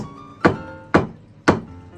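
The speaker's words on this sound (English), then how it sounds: "Bang the spoon off." A spoon is banged three times against a cooking pot while making spaghetti bolognese: sharp, close knocks evenly spaced about half a second apart, with nothing else in between.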